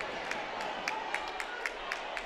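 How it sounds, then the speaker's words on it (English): A basketball gym crowd at a Kell versus Wheeler game claps in a steady, fairly quiet rhythm, with sharp individual claps over a low murmur of voices. "The Kell crowd really roars and claps their hands"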